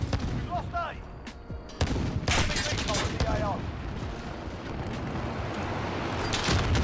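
AK-47 gunfire in the video game Modern Warfare, loud rapid shots and bursts crackling over a dense battle din, with players talking throughout.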